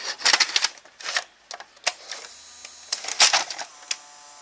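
Inside a Philips/Magnavox VRA231AT22 VCR, the tape mechanism jams, giving off rapid clicking, clattering mechanical bursts with short pauses between them. The sounds are close and fairly loud.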